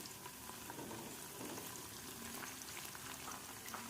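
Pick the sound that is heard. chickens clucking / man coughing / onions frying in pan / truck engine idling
onions frying in pan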